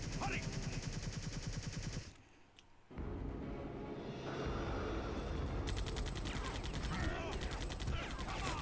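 Bursts of automatic gunfire aimed at Nemesis in Resident Evil 3 on hard difficulty, fairly faint and mixed with game sounds. A short lull breaks up the rapid shots.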